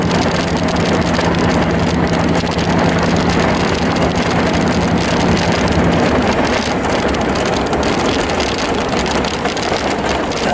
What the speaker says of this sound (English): Pretty windy through here, ain't it?